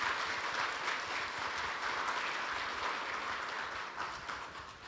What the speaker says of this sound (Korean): 여러분, 장관님께 다시 한번 큰 박수 보내주시기 바랍니다.